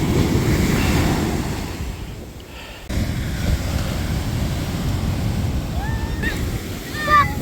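Ocean surf breaks and washes steadily onto a beach, a close, continuous roar that briefly drops around the middle before surging back. Faint high chirps come in near the end.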